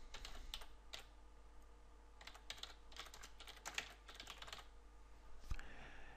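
Keystrokes on a computer keyboard as an article heading is typed into a Joomla title box: quiet, irregular bursts of clicking with short pauses between them, alone with no talking.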